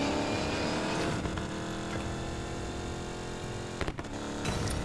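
A tuned car in Need for Speed Payback drones with a steady, loud engine note under music-like game sound, holding a constant pitch with a brief dip and rattle near the end.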